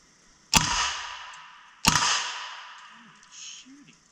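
A fire-damaged Uzi fired on a range, two single sharp loud reports about a second and a half apart, each leaving a long fading ring, followed by faint low murmuring.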